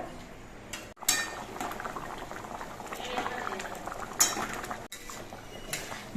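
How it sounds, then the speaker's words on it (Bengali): Vegetarian taro curry gravy simmers in a pot, a soft, continuous bubbling and burbling heard up close at low volume, with a couple of brief clinks of utensils against the pot. "এবার এই ঝোলটা কিছুক্ষণ ফুটিয়ে নিতে হবে"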